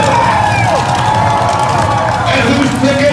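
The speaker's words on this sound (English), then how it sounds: "I want to know by your applause who you think is going to be the winner" Crowd at a drag race cheering, whooping and shouting loudly, a dense continuous roar of voices with scattered high yells.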